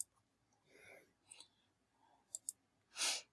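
Computer mouse clicks while confirming a dialog in Stata statistics software during confirmatory factor analysis setup: a few short, faint clicks spread across a quiet room.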